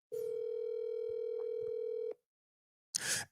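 A steady telephone dial tone hums alone for about two seconds, then cuts off into silence before a brief burst of noise.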